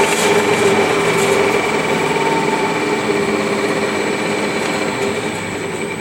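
A Rong Fu 20-inch variable speed drill press, model RF 19V, runs steadily just above 2,000 RPM while being ramped down, giving a continuous loud mechanical whine and hum with no talking.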